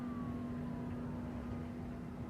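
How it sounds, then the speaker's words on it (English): A distant emergency siren wails faintly near railway tracks in Matsqui, British Columbia, its tone gliding slowly downward over a steady low hum of background noise. "I hear the siren."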